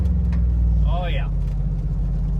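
A GMC Denali drift truck's engine with an MSD two-step rev limiter, a loud steady low rumble held for the whole moment, close to the microphone and running under excited talk.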